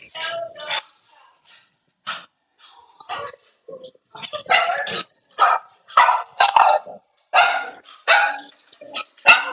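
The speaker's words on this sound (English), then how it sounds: "Dog." Cavalier puppies bark in short, sharp bursts, several yips and barks coming in quick succession up close, mixed with a person talking softly to the litter.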